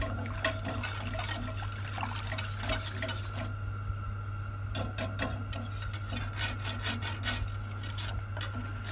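A spoon slowly stirs and scrapes through thickening cream filling for Berliner pastries in a pot, soft rhythmic rubbing strokes over a steady low hum, pausing midway before resuming.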